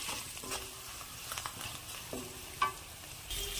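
Vegetables with onion, cumin, curry leaves, salt and turmeric frying in a pan, a soft, quiet sizzle with occasional spoon clinks and stirs, close by, no talking.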